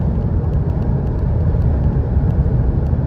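A VW Passat 1.8 TSI turbo engine hums low and steady while cruising at low RPM, with road and cabin rumble filling the background and no talk.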